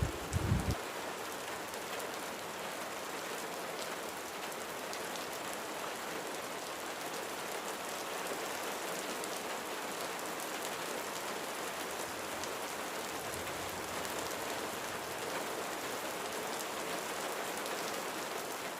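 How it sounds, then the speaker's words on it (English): Heavy rain pours steadily on the road to Nzulezo water village in West Africa, a dense, unbroken hiss of drops on surfaces that holds at an even level throughout, with no voices. "the rains kept coming in, as you can see, so heavy that at a point we had to drive slowly"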